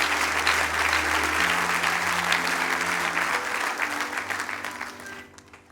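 A church audience at a sermon applauds in a dense, sustained burst that fills the room and then gradually thins out and fades toward the end, with a low musical hum beneath it.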